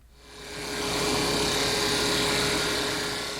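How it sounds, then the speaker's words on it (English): Parting tool cutting into a pen blank spinning on a wood lathe, a steady loud scraping whir that swells in and holds without break. "I'm just using my parting tool here to indicate where the end of the pen should be"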